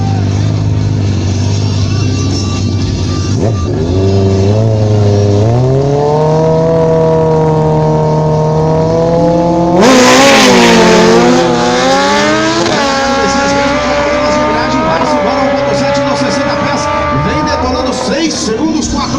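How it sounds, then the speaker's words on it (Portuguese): A Kawasaki Ninja, number 44, races in a motorcycle drag-racing championship. The engine is loud, with a rising, stepped rev as it climbs through gears, then a harsh burst of acceleration midway before it keeps pulling hard. "Messias Roberto com a Kawasaki Ninja número 44"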